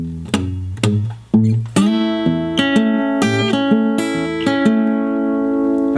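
A rockabilly fingerstyle guitar line is picked slowly, with distinct plucked bass and treble notes ringing one after another, close and clear.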